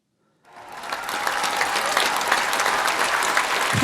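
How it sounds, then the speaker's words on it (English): Loud applause and cheering starts suddenly after a brief silence and holds steady as a dense crowd of clapping hands. "I like the little inputs of the little clapping or the cheers"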